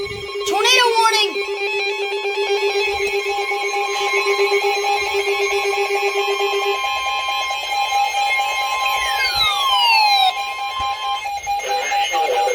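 NOAA Weather Radio sounds its emergency alert tones for a tornado warning: loud, steady electronic tones and chirping data bursts, followed by sweeping falling tones, all close and alone.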